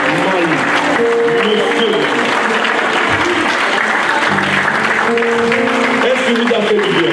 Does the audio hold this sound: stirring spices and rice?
no